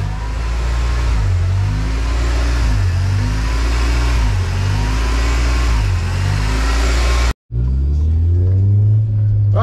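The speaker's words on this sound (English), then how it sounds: "so first drive with the power steering pump installed." A car engine revs and accelerates on its first drive after a power steering pump install, with loud rumbling rises and falls in repeated surges, a brief cutout, then a steady higher drone.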